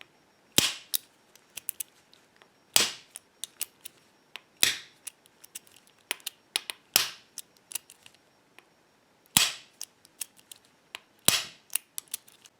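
A bump key struck again and again in a BASI euro cylinder lock, sharp, loud metallic taps every couple of seconds with softer clicks and rattles in between, close and alone.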